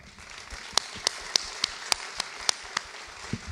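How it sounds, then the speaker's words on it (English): A few scattered, sparse hand claps ring out in a quiet room after a marketing fireside chat, about eight sharp separate claps at a steady pace, faint and thin rather than full applause. "Great job, guys. Round of applause."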